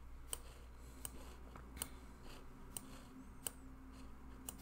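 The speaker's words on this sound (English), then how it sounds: "So right now I'm just clicking randomly." A computer mouse clicks at steady intervals during an online exam demo, about eight faint, crisp clicks over a low background hum, with no voices.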